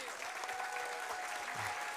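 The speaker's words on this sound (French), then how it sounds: "Merci Joël Garraud, on peut l'applaudir." An audience applauds chef Joël Garraud at the grand finale of a superyacht chef competition, with steady, dense clapping running the whole time and a voice briefly audible beneath it.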